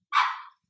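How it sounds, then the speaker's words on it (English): A single short, sharp dog bark sounds once, moderately distant, alone with silence on either side. "Sorry about my dogs."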